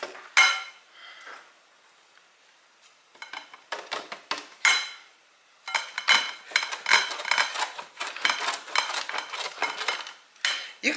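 Frozen butter dusted with flour rubbed across a metal grater, a dry scraping rasp in bursts of strokes with short pauses between, close and fairly quiet, with no talking.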